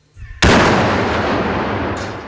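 A test bomb explosion: a single sudden, very loud blast that cuts in abruptly and then rolls into a long, dense roar slowly decaying over about two seconds.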